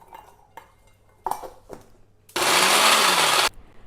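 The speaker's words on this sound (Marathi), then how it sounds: "सर्वप्रथम आपण हे लसूण, हिरवी मिरची आणि आलं आणि हे कोथिंबीर आपण टाकून बारीक करून घेणार आहोत।" An electric mixer grinder blitzes garlic, green chillies, ginger and coriander in one loud, steady burst of about a second, after a few soft clinks and knocks of the jar.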